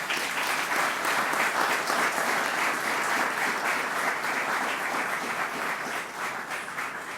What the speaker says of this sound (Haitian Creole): Merci sur vos applaudissements.